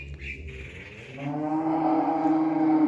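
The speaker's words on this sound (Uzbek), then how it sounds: "Juda katta sigir." A very large, recently calved dairy cow that gives up to 30 litres of milk a day lets out a long, loud, close moo that rises and holds steady, with no talking over it.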